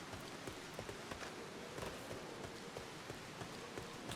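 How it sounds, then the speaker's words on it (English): Steady rain in the video game Final Fantasy XIV, a dense continuous hiss with scattered soft pattering drops, heard faintly and alone without talk. "It's raining, girl."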